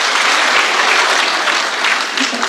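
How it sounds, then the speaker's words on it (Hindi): A mushaira audience applauds poet Varun Anand, dense continuous clapping from a large crowd, loud and sustained throughout. "जोरदार तालियां एक बार वरुण आनंद के लिए"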